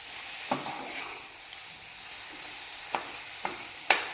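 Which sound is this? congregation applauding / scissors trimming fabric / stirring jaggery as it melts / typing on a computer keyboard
stirring jaggery as it melts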